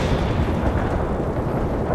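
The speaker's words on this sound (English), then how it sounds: "Commencing the barrage. Artillery strike on the way." Artillery barrage in a war strategy video game, heard as a continuous loud, dense rumble of distant and near blasts with no pauses.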